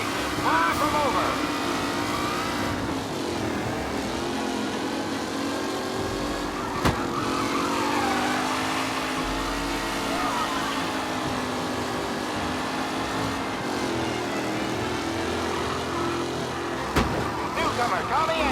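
Race cars on the final lap in the video game Mafia: Definitive Edition, a continuous droning engine roar with shifting pitch as the cars run close together, a couple of sharp knocks, and faint voices underneath.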